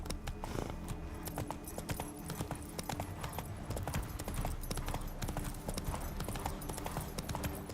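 A horse galloping in The Witcher 3, with rapid, rhythmic hoofbeats drumming steadily and close for the whole stretch along with a light jingle of tack.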